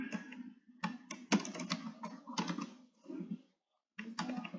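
Someone types on a computer keyboard while entering data in a database practical, producing close, irregular clusters of key clicks with a short silent gap before a final flurry of keystrokes.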